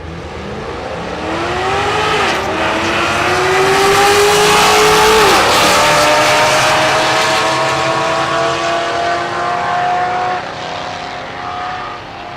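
A drag race car launches down the strip at Texas Motorplex, a loud rising engine roar that builds, shifts pitch and then holds a sustained high drone as it speeds away.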